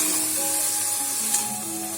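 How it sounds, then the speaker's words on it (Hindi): Halwa cooking down in milk in a pan gives a close, steady bubbling sizzle, with a faint spoon stir underneath and no voices. "दूध खुश्क होने तक अब हम चमचा हिलाएंगे"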